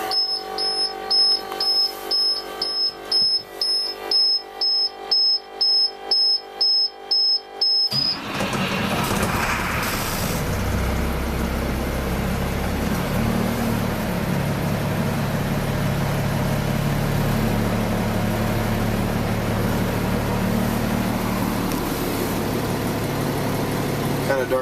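A 1998 International 4700 box truck: a rhythmic beeping ignition chime, then the diesel engine cranks and catches around eight seconds and settles into a steady, loud idle rumble that continues to the end.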